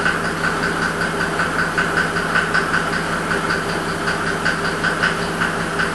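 A 1992 Mercedes 300SD diesel engine runs at a steady idle with a faulty knock, a continuous droning hum heard close and fairly loud, with a faint regular ticking through it.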